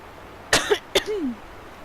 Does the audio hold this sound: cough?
yes